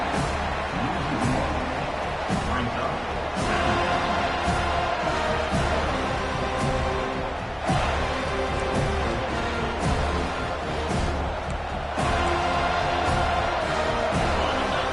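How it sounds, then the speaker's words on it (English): Stadium crowd noise in an American football video game: a dense, continuous roar of cheering and chanting fans throughout, with swells and occasional whoops. "This crowd trying to make life miserable for this offense."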